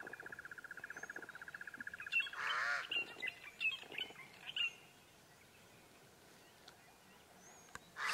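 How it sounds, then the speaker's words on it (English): Crows call outdoors in the African bush in short rhythmic bursts and harsher squawks, fairly faint and distant, with pauses between calls. "You can hear those crows calling there now."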